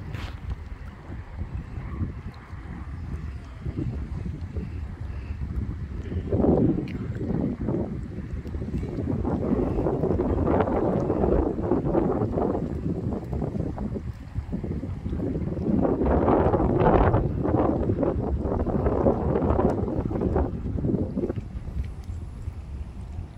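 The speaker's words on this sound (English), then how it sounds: "It's windy outside, so you guys can't really hear what I'm saying" Gusty wind buffets the microphone outdoors on a kayak fitted with a trolling motor, rising and falling in loud rumbling surges that swamp the faint background.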